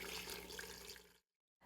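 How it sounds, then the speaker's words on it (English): Cold water pours steadily into a pot of chicken bones for Thai-style chicken stock, a close, rushing splash lasting about a second before it cuts off abruptly. "I'm going to add some water to this and I'm starting with cold water"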